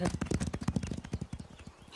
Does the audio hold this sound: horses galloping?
yes